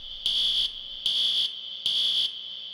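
Beeping from an Incredibox mod, three loud, even, shrill electronic tones of about half a second each, spaced regularly like an alarm buzzer, heard alone.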